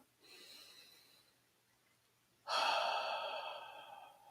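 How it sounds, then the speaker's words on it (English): Two slow, deep breaths, a softer one followed by a louder, longer exhale, airy and close with no talking. "take a deep breath, another deep breath, another deep breath"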